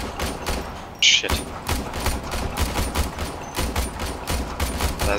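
Rapid bursts of Warframe gunfire crackle continuously, with repeated sharp pistol shots and a louder blast near the start, dense and close throughout.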